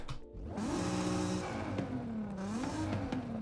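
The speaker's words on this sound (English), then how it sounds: "that's the sound of the standard exhaust." Car engine with a standard exhaust revving in the racing game Forza Horizon 5, a steady droning note that rises and falls in pitch over a few seconds, alone without talk.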